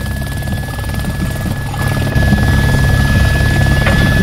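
A military helicopter in the video game ArmA 2: Operation Arrowhead flies with a loud, steady rotor thump and turbine whine, growing slightly louder partway through, with no talking.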